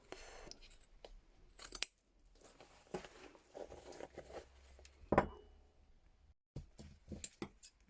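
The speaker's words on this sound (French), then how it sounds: "Voilà, j'ouvre au bord de la couture." Seams of a denim bag are opened in short bursts of close, dry snipping and tearing, separated by near-silent gaps, with a sharper rip midway and a few quick clicks toward the end.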